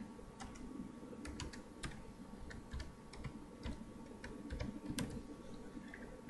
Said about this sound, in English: So go ahead and type up the text you want.